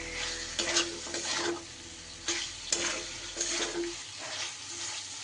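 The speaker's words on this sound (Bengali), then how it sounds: "এবার আমি কেটে রাখা ক্যাপসিকামটা দিয়ে দেব এই মশলার সাথে।" Chopped capsicum stir-fried in an oily spice masala in a pan, with a soft continuous sizzle and several sharp scraping stirs at irregular intervals, close by and with nobody speaking.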